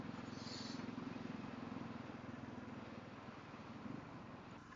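Suzuki DR 650 big single-cylinder motorcycle engine thrumming steadily while riding, a low continuous pulsing drone with constant wind rush, fairly distant and even throughout.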